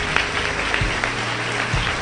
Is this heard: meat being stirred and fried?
no